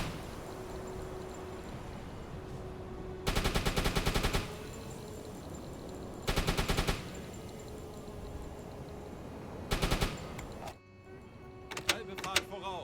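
Machine gun fire in a naval video game, three long rapid bursts of rattling rounds over a constant engine drone, with voices heard between them.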